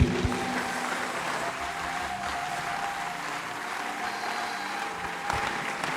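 Congregation clapping at a Christian worship service, a steady dense applause that holds evenly throughout, with a faint sustained tone running underneath.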